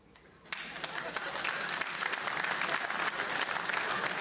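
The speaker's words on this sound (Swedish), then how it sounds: "Nej, alla som inte har runkat idag, applådera nu." A comedy-show audience breaks into applause after a brief quiet moment, the clapping starting abruptly and building into a dense, steady, fairly loud wash with scattered crowd noise.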